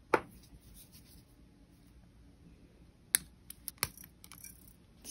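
Wire cutters snip copper wire while wrapping a Halloween cauldron pendant, one sharp click near the start and another pair of crisp snips later, with small handling taps between in an otherwise quiet room.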